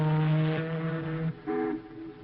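A voice imitates an ocean liner's horn with a deep, sustained hooting tone, then a second shorter blast after a brief pause, loud and close.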